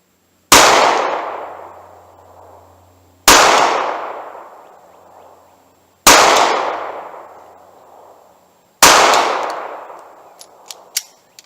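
Four loud, evenly spaced pistol shots from a .380 Auto pocket gun at long range, each a sharp crack followed by a ringing decay, with faint metallic pings of a steel target near the end.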